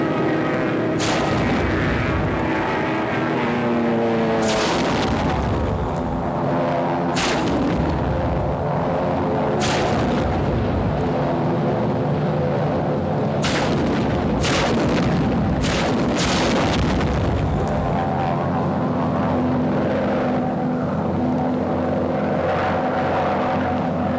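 Fighter bombers strafe while firing rockets, a loud continuous engine roar with droning tones, punctuated by repeated sharp cracks and bangs throughout.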